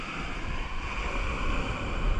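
Sea waves wash steadily against the shore at a fishing spot, a constant broadband surf roar mixed with wind buffeting the microphone, with no voices.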